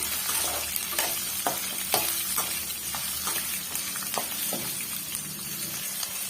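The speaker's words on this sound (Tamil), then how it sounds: "இதையும் சேர்த்து ஒரு ரெண்டு நிமிஷத்துக்கு நம்ம வதக்கி விட்டுக்கலாங்க" Onions for a spicy curry leaf chutney sautéing in a pan, a steady loud sizzle with a spatula scraping and stirring in repeated strokes, close up with no talking.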